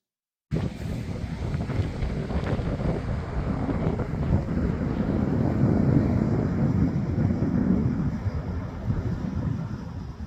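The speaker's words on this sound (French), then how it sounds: "Temps ensoleillé et venteux à Caverne Provert cet après-midi, avec les grosses vagues qui déferlent" Strong gusting wind buffets the microphone on a sunny, windy coast at Caverne Provert, with heavy waves breaking, forming a dense, loud, continuous roar that swells toward the middle.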